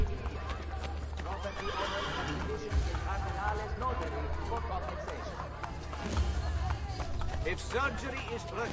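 In Assassin's Creed Brotherhood, a horse gallops with continuous clip-clop hoofbeats and neighs, while a person talks over the game audio.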